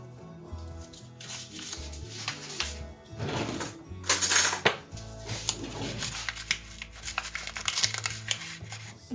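A teaspoon clinks lightly against a container while vanilla is measured out, a few soft metallic taps and scrapes clustered in the middle, over a faint steady background.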